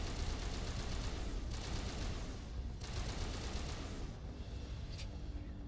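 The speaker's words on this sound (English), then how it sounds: "we can just keep walking and shooting at the same time without even stopping" Rapid automatic gunfire in the video game Mass Effect, repeated bursts of dense rattling shots over a loud continuous battle din, close and forceful, with short gaps between volleys.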